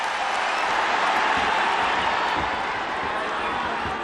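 A large arena crowd roars during a boxing match between Inoue and Donaire, producing a continuous dense swell of cheering and noise, loud and unbroken with occasional low thumps underneath.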